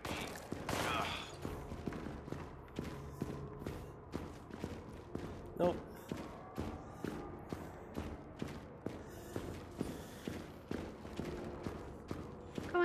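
Gunfire in the video game After the Fall, a dense run of rapid shots and clattering impacts that keeps going under overlapping voices.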